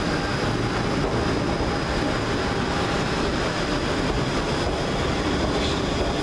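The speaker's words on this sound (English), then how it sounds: "Ah, my train to take me to Brummy International." Class 350 train 35121 pulling in toward Birmingham International, a loud steady rumble and hiss of rolling stock with a faint whine, filling the platform without pause.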